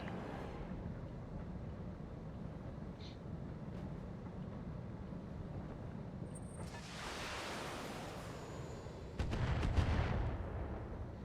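A video game artillery gun fires with a heavy rumbling blast and a long roaring tail over steady low background noise, followed by a second deeper boom near the end.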